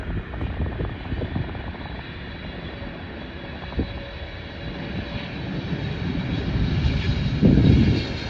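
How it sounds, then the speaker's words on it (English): A Boeing 777-200LR, heard from the business-class cabin of an Air India flight, lands on runway 19 right at San Francisco, with a steady loud engine roar, a faint thud, and rising rumble as it touches down. "We landed on runway 19 right"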